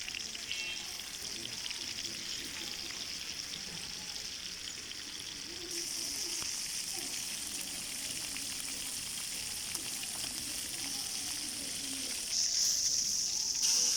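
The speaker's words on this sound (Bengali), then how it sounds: "তেলটা গরম হয়ে গিয়েছে এখন আমি একটা একটা করে মাছ দিয়ে দিচ্ছি" Katla fish pieces frying in hot oil in a frying pan, a steady broad sizzle running throughout that grows slightly louder partway through, with faint voices in the background.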